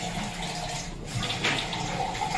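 Tap water runs steadily into a sink as a person washes her face after brushing teeth, a continuous close splashing hiss with slight changes as hands move through the stream.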